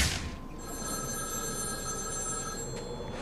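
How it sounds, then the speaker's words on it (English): A telephone rings in the Batman: Arkham City video game, a bright, sustained electronic bell trill that carries on steadily over low game ambience. "Ring, ring. Find my phone, Batman."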